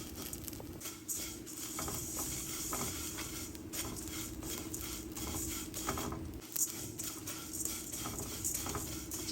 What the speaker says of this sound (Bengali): এবার উল্টিয়ে পাল্টিয়ে চিড়াগুলোকে ভেজে নেব।